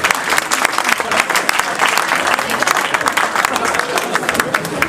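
An audience applauds continuously for a guest, a loud, dense wash of clapping from a full room that holds steady throughout without talk breaking through.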